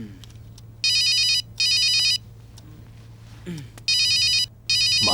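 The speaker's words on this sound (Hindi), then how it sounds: "माँ का फोन आ रहा है।" A mobile phone rings with an incoming call in repeated electronic bursts, two rings, a pause, then two more, loud and close over a low steady hum, with no one talking.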